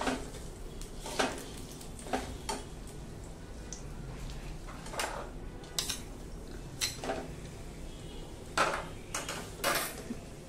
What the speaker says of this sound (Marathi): आता हे करूया, हे जे खजूर आहे हे छान परतून घ्यायचं।